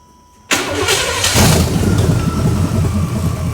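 A rebuilt Chevrolet 305 V8 with TBI in a 1991 C1500 truck cranks and fires up abruptly, then settles into a loud, rough, lumpy idle that keeps rumbling steadily.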